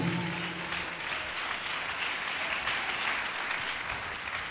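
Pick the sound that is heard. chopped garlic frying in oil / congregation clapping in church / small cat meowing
congregation clapping in church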